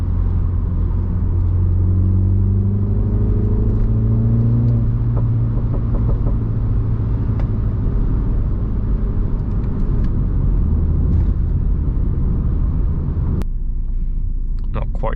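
A Mini John Cooper Works in sport mode drives along with steady low engine rumble and road noise, engine tone rising through gears early on, continuous and close, ending with a brief sharp knock.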